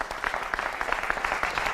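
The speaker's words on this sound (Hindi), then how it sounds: "जोरदार तालियां" Studio audience applause on a televised political debate show, a short burst of brisk, moderately loud clapping with distinct individual claps audible in the mix.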